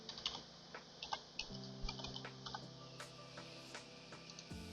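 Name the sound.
typing a password on a computer keyboard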